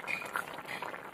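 Fish curry with cumin paste and eggplant simmers in a covered pot, making a faint, soft bubbling for just over a second.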